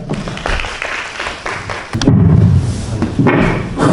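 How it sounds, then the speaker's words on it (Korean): An audience at a policy forum on overseas Koreans claps to welcome a panelist before a discussion, a short burst of steady applause with a few heavier thumps mixed in, fairly close and loud. "박수 부탁드립니다."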